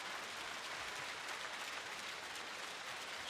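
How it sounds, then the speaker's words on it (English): Stadium crowd at a high jump meeting in Banská Bystrica gives steady applause for high jumper Donald Thomas, a dense, even wash of clapping heard at a distance without a break. "a big round of applause for the ever-popular Donald Thomas."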